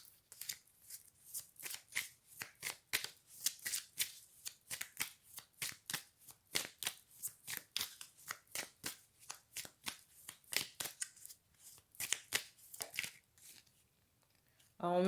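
A deck of cards being shuffled over and over, crisp riffling bursts coming in a quick, steady rhythm, close and clear with no talking.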